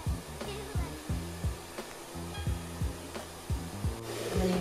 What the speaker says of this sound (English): you can just literally put a low heat on with the hairdryer.